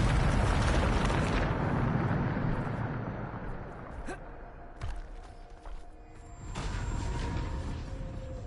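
The Bombarda spell goes off in Hogwarts Legacy on PS5 with a loud, deep blast that rumbles and fades out. Sharp magical cracks follow, then a second swelling burst, with no voices.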